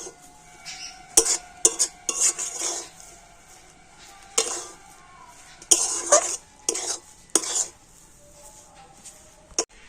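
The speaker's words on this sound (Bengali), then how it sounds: "সুইটা কিন্তু এইভাবে নাড়াচাড়া করে নিতে হবে" Semolina dough stirred in a pan over low heat, with sharp intermittent scrapes and clinks of the spoon against the metal separated by quiet gaps.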